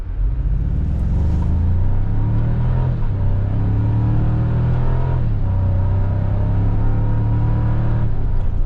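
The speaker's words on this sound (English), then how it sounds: "now I'm going to move the gear shift over to the left and put it in manual mode, and now we'll shift with the gear shift like it's a 6-speed" A 2025 Toyota 4Runner SR5 4x4 engine accelerating in manual mode, its steady drone rising in pitch then dropping back at gear changes around three and five seconds, loud and continuous from inside the cabin.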